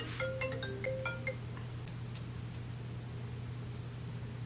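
A phone ringtone goes off near the microphone, a short run of bright melodic tones in the first second and a half, then a few fainter chimes, over a steady low hum with no talking.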